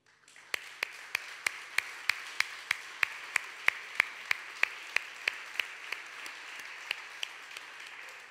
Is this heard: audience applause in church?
yes